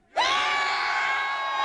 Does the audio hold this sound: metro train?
no